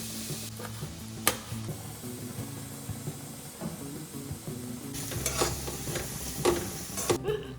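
Onions and green chilies frying and being stirred in a pan, with a steady close sizzle, scraping stirring strokes and a few sharp utensil knocks, growing louder and busier near the end.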